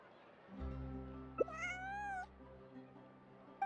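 A cat meows once in the Genshin Impact game, a clear rising-falling call in the middle, over a steady low hum of background music.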